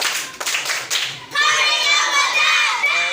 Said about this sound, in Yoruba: Ẹ pàtẹ́wọ́ fúnra yín